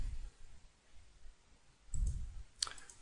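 A couple of short computer mouse clicks in a quiet room, a soft thud and then a sharper click, with no talking.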